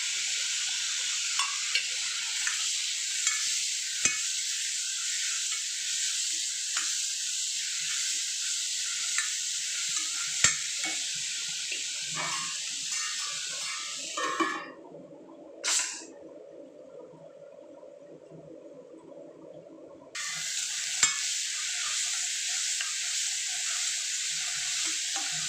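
Chopped onions and two tomatoes sautéing in a pan for a banana stem kootu, a steady close sizzle with occasional stirring scrapes, broken midway by a brief quieter stretch before the frying hiss returns.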